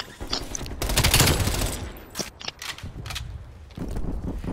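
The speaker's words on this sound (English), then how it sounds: "MP5, dude. I haven't really used this gun" Video-game MP5 submachine gun in a free-for-all match: rapid bursts of close gunfire, a dense volley in the first two seconds followed by shorter, sporadic bursts, loud and up front.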